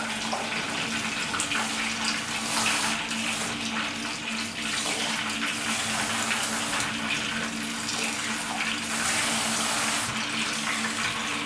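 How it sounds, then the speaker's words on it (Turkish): Three glasses of water poured into a pot in a home kitchen while making cherry stem tea, a steady, close gushing and splashing of water running on without a break. "Şimdi bunun içine 3 su bardağı su koyacağız"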